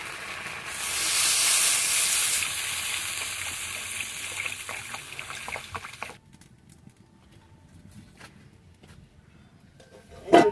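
Water poured into a hot pan with turmeric and chilli for a village fish curry, a loud hissing steam burst that settles into quieter bubbling and faint clinks, ending with a sharp knock.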